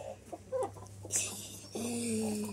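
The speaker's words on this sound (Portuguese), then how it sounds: "E eu voltei com essa galinha aqui." A hen clucking at close range in a few short bursts, then a longer drawn-out cluck near the end, with no voices alongside.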